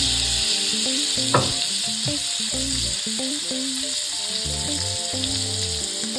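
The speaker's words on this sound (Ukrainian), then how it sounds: "як воно все смачно шкварчить, обжарюємо" Chicken, tomatoes and garlic sizzle and crackle steadily in a hot frying pan, a close, continuous hiss with light music playing underneath.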